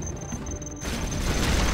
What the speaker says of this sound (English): Gatling cannon is ready